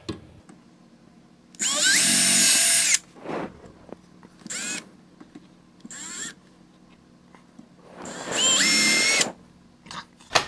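A power drill drives pilot holes into a pipe flange in two loud, close, whining bursts of about a second each, separated by quieter clicks and brief trigger pulses.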